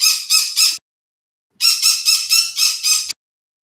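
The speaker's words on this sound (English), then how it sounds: "Sorry, my birds. They also want to have some attention." Loud, close squawking from pet birds indoors, a short run of three raspy calls, a pause, then a longer string of five or six harsh squawks in steady rhythm, with no talk.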